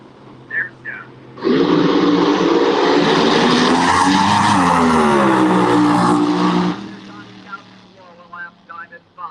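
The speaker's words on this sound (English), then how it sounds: "Bucky's team car over there, Bobby Cottrell, the RPMs will come up on that car a little bit" A race car engine roars loudly and steadily for about five seconds as its revs climb, with a voice commentating before and after.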